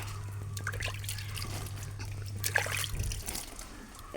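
Cow dung water sprinkled over a packed compost sack, a near trickle and patter of liquid over a low steady hum, fading toward the end.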